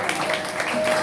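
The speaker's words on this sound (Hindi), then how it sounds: "ज़ोरदार तालियूं।" A crowd at a religious katha gathering claps in a dense, steady wash of applause, even and close throughout the brief moment.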